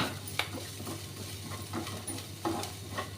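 Onions frying in a pan for a bitter gourd tamarind curry, a quiet sizzle beneath intermittent metal spoon clinks and scrapes of stirring, with a low steady hum behind.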